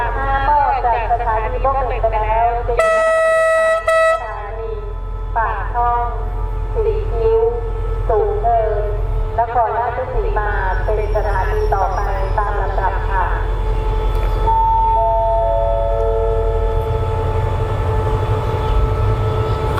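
An express train pulls away from Mak Lek station in Thailand with a low rumble and a sustained horn, while people talk steadily over the background noise.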